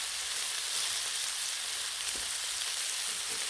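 Bacon sizzles on a Blackstone griddle in a constant hissing crackle with a few sharper pops, close and steady, with no voices.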